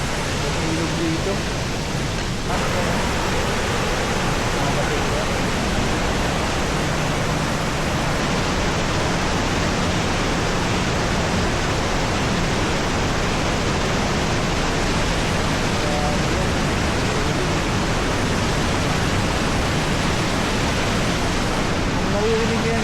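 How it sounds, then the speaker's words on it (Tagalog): A strong floodwater current rushes through a flooded street in Sta. Rosa, Laguna, as a steady, dense roar filling the whole stretch without a break. "Lakas ng tubig mga kasama."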